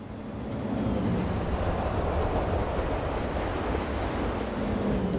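A Dutch train in Train Simulator Classic runs at speed near 160, giving a steady, loud rushing rumble with broadband wind-like roar and faint regular clicks throughout, and no talk.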